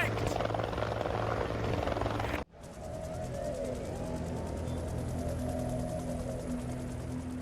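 Police helicopter flying over London during the Tottenham disturbances, a steady loud rotor thrum with whining turbine drone, briefly cut then continuing overhead.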